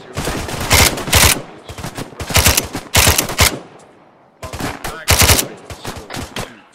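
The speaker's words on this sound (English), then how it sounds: "Rapid fire." Rifles firing rapidly during military section training outdoors, several loud bursts of quick cracking shots in clusters separated by short pauses, close and sharp.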